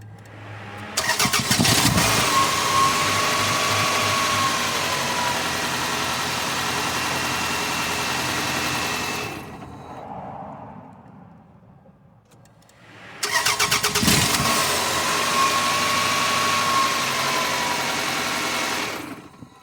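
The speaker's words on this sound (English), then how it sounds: "I'm gonna try to turn on the vehicle" A 2.2-litre Toyota Camry engine cranks and fires after timing belt and water pump work, running steadily and loudly up close, then briefly quieting before it starts again and idles on.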